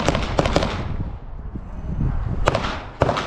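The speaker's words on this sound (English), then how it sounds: "Glock bang." Gunshots from a Taran Tactical Glock 34 pistol at a PRG shooting match, sharp loud cracks in a quick pair, a pause, then two more with another near the end.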